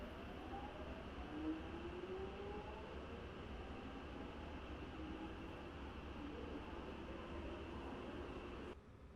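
A Chiltern train in a Metropolitan Line train simulator game gives a steady, low rail rumble with a faint whine, continuous and even until it cuts off near the end.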